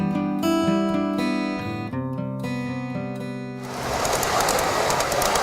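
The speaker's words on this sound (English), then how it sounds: "So as the train goes by" A train's loud multi-tone horn blares in long chords, then gives way to a rushing, clattering roar as the train passes close by.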